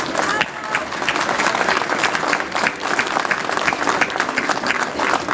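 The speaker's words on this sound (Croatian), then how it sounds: "prvo bih vas sve lijepo zamolio da jednim aplauzom pozdravimo naše drage organizatore" A crowd at an evening protest rally in December 2011 claps in sustained, dense applause, loud and continuous throughout, with some voices mixed into the clapping.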